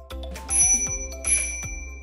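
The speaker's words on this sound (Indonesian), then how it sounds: "By the way, sepeda ini nggak dapat bel sebenarnya, tapi gue sengaja tambahin bel" A bicycle bell fitted to an Exotic 226MT folding bike rings several times in quick succession, bright close metallic dings with lingering tones, heard alone without talk.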